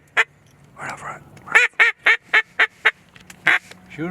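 Mallard ducks quacking close by in a rapid run of about a dozen loud, evenly spaced quacks, preceded by a softer raspy call, outdoors in a duck hunting setting.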